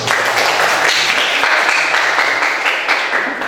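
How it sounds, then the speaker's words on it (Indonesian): Students in a chemistry classroom give a round of applause, a fairly loud burst of many hands clapping that holds steady and tapers slightly toward the end, with no talk over it. "tepuk tangan itu semua"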